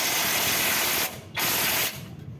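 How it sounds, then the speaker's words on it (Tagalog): Socket wrench with a 19 mm socket tightening a nut on Toyota Altis front suspension, rapid steady ratchet clicking in two close bursts with a brief pause between, loud and near. "Gagamit ka naman dyan ng socket wrench na number 19."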